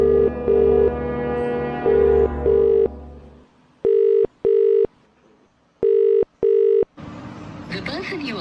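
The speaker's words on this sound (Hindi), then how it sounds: "उसे कॉल लगाई जाए।" An outgoing phone call goes unanswered, its ringback tone repeating in loud, evenly spaced double pulses with quiet gaps between them, ending as a recorded voice cuts in.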